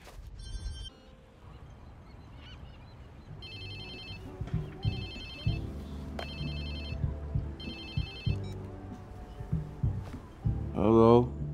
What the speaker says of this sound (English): Whose phone is this? It's your new phone.